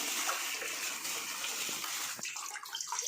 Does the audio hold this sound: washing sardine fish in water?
yes